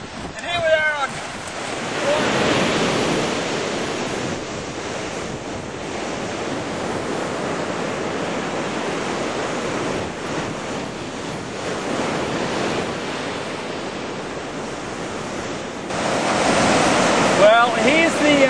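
Waves break on a coastal beach near Lake Barracoota, a loud, continuous roar of surf with steady wind noise battering the microphone and a louder swell toward the end.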